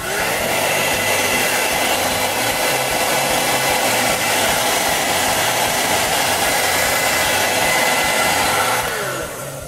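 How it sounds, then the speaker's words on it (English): A heat gun blows hot air onto a Mossy Oak vinyl wrap on a shotgun, a loud continuous close-up roaring whoosh held steady for nearly ten seconds before easing off at the end. "That's where our heat gun comes into play."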